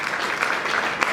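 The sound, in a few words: church congregation applauding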